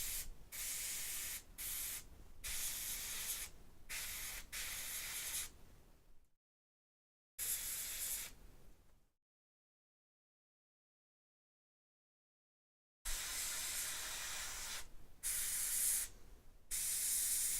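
An airbrush sprays paint onto human skin in steady hissing bursts: several short sprays, then two longer passes separated by silence, close and fairly loud.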